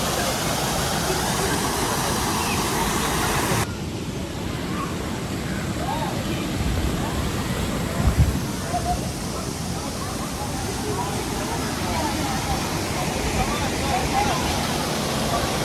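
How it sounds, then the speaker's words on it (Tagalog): Strong spring water gushes out at its source in Canada, a steady, loud, close rushing that fills the whole stretch without pause. "malakas din yung agos."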